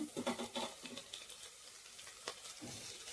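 Crushed garlic and green chillies sizzle in hot oil while cooking dry fish biryani, with scattered crackles and the scrape of stirring.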